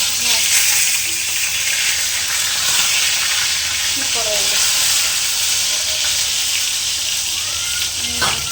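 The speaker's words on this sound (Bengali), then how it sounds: "এখন আমি মাছ ভাজা বসিয়েছি" Fish frying in a pan gives a steady, loud sizzle and hiss throughout, with a voice speaking briefly over the cooking.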